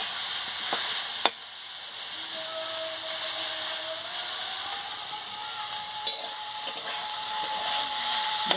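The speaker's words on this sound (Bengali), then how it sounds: "আজকে আমি বাঁধাকপির ভাজা করছি।" Cabbage sizzles steadily in a frying pan while a utensil stirs and scrapes it, giving a few sharp clinks against the pan over the constant hiss; no one speaks.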